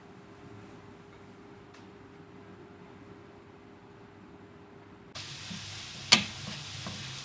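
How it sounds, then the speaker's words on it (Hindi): Onions frying in a pan for chicken biryani give a faint, steady sizzle that turns louder and brighter partway through, with one sharp clink near the end. "अब हम इसको पकाएंगे जब तक हमारा प्याज हल्का सा गोल्डन नहीं हो जाता।"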